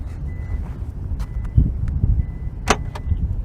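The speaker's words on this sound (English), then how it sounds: "So again, it's 4 beeps and it opens." A Hyundai Sonata's hands-free trunk sounds a short series of sharp electronic beeps close by, followed by the mechanical thud and whir of the trunk lid opening, over low outdoor background noise.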